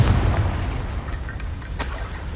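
A Confringo blasting spell goes off in a Hogwarts wizarding game, a dull, rumbling boom with a crackling noisy tail that fades over a couple of seconds.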